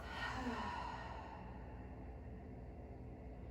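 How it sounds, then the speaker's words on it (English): Big open-mouth exhale during a power vinyasa yoga class, one soft breathy sigh that fades gradually, quiet and close. "Take a big inhale here. Exhale, open mouth."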